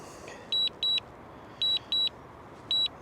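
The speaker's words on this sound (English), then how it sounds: "You'll be able to hear it beeping and stuff." Three pairs of sharp electronic beeps from a DJI Mini 4K drone returning home repeat at a steady rhythm, high and clear over a faint background hum.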